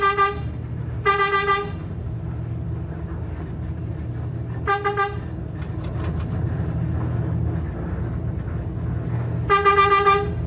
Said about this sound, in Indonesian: makanya Bang Yaya udah membunyikan klakson sejak awal dan mulai kanan terus.